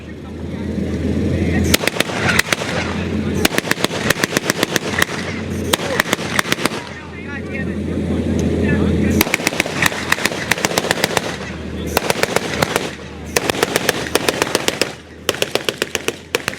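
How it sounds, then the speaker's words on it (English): A .50 caliber machine gun fires from atop an M20 vehicle at a reenactment at an air museum in Chino, California, loud rapid bursts repeating over a rumbling engine as the vehicle drives past. "what we got driving by right now is an M20, and there's a guy on top shooting a 50 cal"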